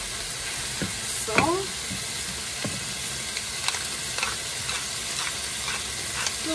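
Garlic and pepper sizzle steadily in a hot pan, with occasional scraping and stirring clicks over the constant frying hiss.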